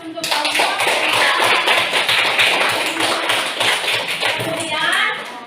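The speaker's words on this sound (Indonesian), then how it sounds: "Kita berikan aplaus untuk kelompok 3." Students in a junior high school classroom break into sustained applause for a group, many hands clapping densely and loudly for several seconds before tapering off, with some voices mixed in.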